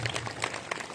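Brief burst of audience clapping during a religious purana discourse gathering, a quick scattered patter of hands at moderate distance.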